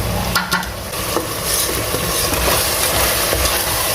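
A spoon scrapes and stirs mutton kidney and liver frying with salt, red chili, turmeric, dried coriander and kasuri methi in a pan. Scattered scrapes and clicks sound close over a constant sizzle, with no talking.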